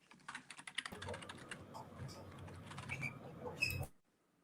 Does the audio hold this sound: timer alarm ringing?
no